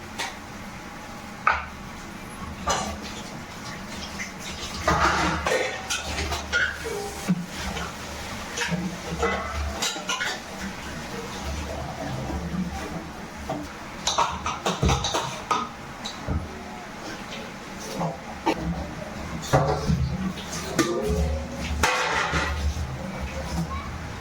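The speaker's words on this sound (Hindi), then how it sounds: "अब मैं मारने जा रही हूँ ये बर्तन, जो 2-4 बर्तन है जल्दी मारती हूँ।" Dishes, pots and utensils clatter and clink in a home kitchen sink during washing, with irregular close metallic knocks and scrapes over running background noise and some talk.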